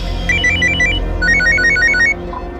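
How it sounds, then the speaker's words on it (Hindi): A telephone rings in two bursts of rapid warbling electronic trills, loud and close, then stops abruptly, with no voices over it. "एक जरूरी फोन है।"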